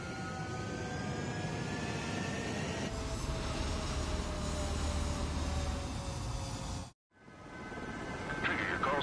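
Fighter jets in Ace Combat 7 take off with a steady, loud engine roar. The roar swells midway, cuts out for a moment and resumes with rising whines.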